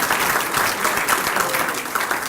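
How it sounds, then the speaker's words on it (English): Sustained audience applause at a medical devices grant presentation, a dense, even wash of clapping from a seated crowd that carries from start to finish with no talk over it. "Give him a big round of applause."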